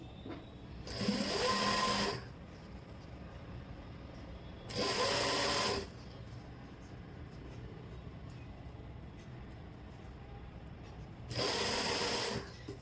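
A sewing machine stitches a pant seam in three short, close bursts of a second or so each, separated by quiet pauses with faint room noise.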